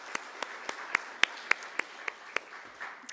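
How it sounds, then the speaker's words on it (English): About ten single, sharply spaced hand claps sound at a steady rhythm during a community committee meeting, crisp and separate rather than a full crowd. "Clapping aloud, just this once."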